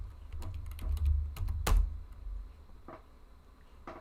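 Someone types on a computer keyboard, a close series of quick clicking keystrokes in irregular bursts with a few sharper taps, over low background rumble.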